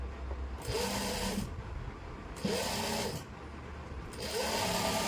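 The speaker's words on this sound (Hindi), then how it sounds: "एक सिलाई और लगा दी हूँ" Sewing machine stitching the sleeve of a suit, running in three rapid bursts separated by brief pauses, close and fairly loud with no talking.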